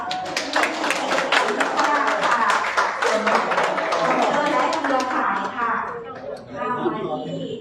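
Audience applause at a library event during a live knowledge-management fair, a dense patter of clapping hands with chatter mixed in, fading out near the end as voices carry on.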